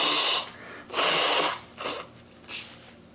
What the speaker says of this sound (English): Excuse me while I just blow my nose.